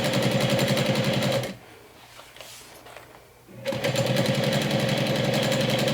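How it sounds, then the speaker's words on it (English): A sewing machine stitches through all layers of a fabric strap in fast, even bursts, pausing for about two seconds mid-seam before running on steadily, close and loud. "When you get to the end, pivot and sew all layers of all sides of the strap."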